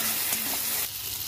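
Poppy seed paste and chili powder sauté for tomato posto, a loud close hiss of sizzling oil with a soft stirring scrape, continuous and without voices.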